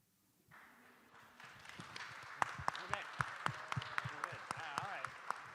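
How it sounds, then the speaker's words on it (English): Audience applause at a morning panel session in West Central Minnesota, starting from near silence and building into sparse, distinct claps that grow denser, with individual hand claps standing out sharply. "keep that round of applause going. A big round of applause."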